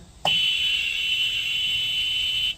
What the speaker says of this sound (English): Excuse the beep there